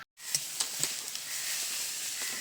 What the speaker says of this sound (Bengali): বেশ সুন্দর করে নেড়ে চেড়ে ভেজে নিচ্ছি